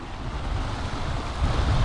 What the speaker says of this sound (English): There's a serious little waterfall here going into this hole.